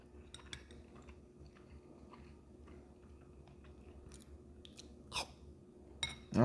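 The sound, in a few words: chewing food during lunch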